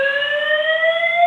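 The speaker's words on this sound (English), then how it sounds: "Wow, fire drill. It's a fire alarm." A building fire alarm sounds loud and close, one continuous steady electronic tone with bright overtones and nothing else heard.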